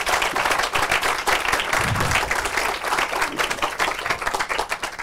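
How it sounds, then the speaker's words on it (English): Enthusiastic audience applause after a presentation at a quantum computing talk, loud and steady for several seconds with sharp individual claps mixed into the dense roar and a brief low murmur partway through. "let's give a huge applause to Peter for taking us through all of that"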